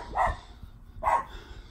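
Puppies giving two short, sharp barks about a second apart, moderately close, outdoors in a garden with nobody talking.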